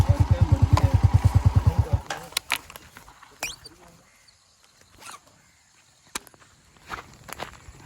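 Footsteps on the ground near a stream, with scattered crunching steps and rustles, some close and some fading. A quick rhythmic mechanical thumping opens the sequence before the walking takes over.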